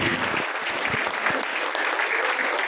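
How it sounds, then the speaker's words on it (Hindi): Applause from a crowd at a BJP victory welcome celebration for a Delhi election win, steady dense clapping throughout with a few low thumps and faint voices underneath. "मैं चाहूंगा एक बार जोरदार तालियां भारतीय जनता पार्टी की"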